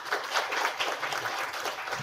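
Audience at an investor-relations demo day event applauds steadily, a dense wash of many hands clapping at close range for the full two seconds.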